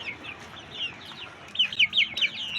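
Chicks peep and cheep in a busy cluster, high chirps overlapping, growing louder and denser partway through.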